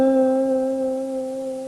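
One sustained electric guitar note in a blues style, held with a slow, even vibrato that gently wavers the pitch, played close and clear with no talking.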